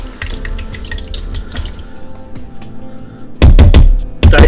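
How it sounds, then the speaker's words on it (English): Canned organic fire-roasted tomato sauce poured into a Ninja Foodi pot, thick liquid glugging and dripping in close, uneven plops, ending with heavier splashy bursts as the last of it slides out. "we're going to go ahead and we're going to add our tomato sauce"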